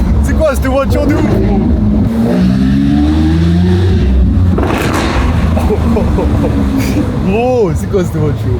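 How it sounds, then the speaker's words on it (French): A sports car engine in Dubai roars and accelerates in loud surging sweeps, close by, with a sharp rev near the end and people talking excitedly throughout. "Gros, c'est quoi cette voiture?"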